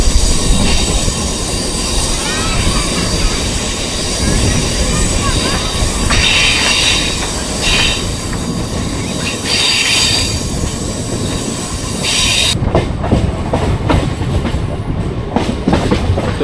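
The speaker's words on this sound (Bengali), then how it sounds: "আমাদের ট্রেন কিন্তু বেঁকে গেল" A train rolls steadily along a curving rail line near Mourigram station on the Howrah–Amta route, with continuous rumbling wheel noise and metallic squeal throughout, growing harsher and more clattering toward the end.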